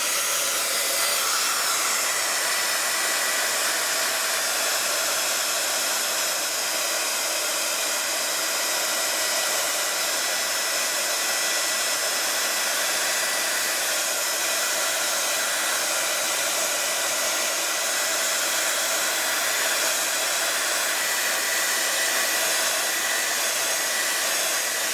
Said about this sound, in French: ensuite avec un pistolet chauffant, avec gun, comme ceci